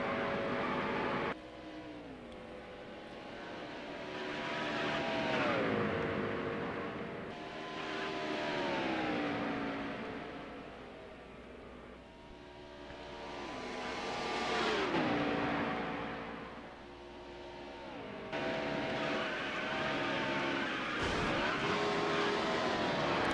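Race car engines roar through a NASCAR Heat 2002 PlayStation 2 replay, rising and falling in pitch as cars accelerate and sweep past, loud and continuous with brief shifts and no talking.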